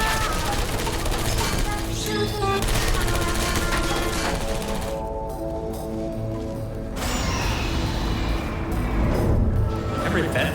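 Turrets firing in a Portal mod, rapid rattling bursts of automatic fire, loud and close, with a brief lull midway before the shooting resumes.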